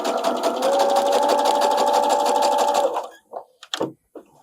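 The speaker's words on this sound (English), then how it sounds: "now I have stitched the 2 pieces of fabric together" A sewing machine stitches two pieces of fabric together for binding, running in a steady, fast continuous whir for about three seconds, then stopping. A few short clicks and handling noises follow.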